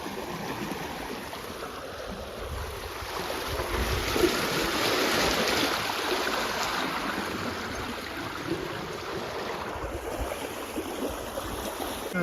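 Irrigation water runs steadily through an ajwain field outdoors, a continuous broad rushing wash with some wind noise, even and unbroken throughout.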